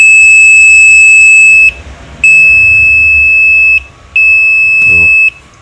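Continuity buzzer on a Sanwa PC7000 digital multimeter giving loud, steady high-pitched beeps in three long stretches separated by brief gaps, with faint low background noise.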